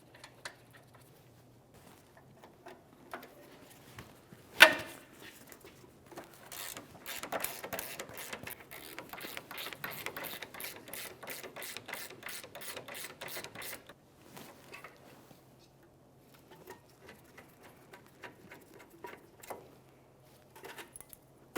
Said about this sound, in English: Continue on to fully removing the second bolt.